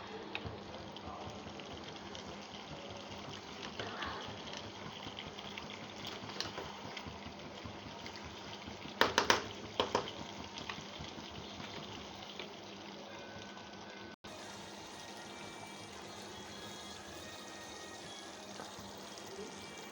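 A pan frying on a low flame gives a soft, steady bubbling sizzle throughout, with a few brief clinks partway through.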